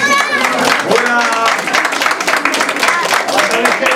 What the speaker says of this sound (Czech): A veliký potlesk Peťovi.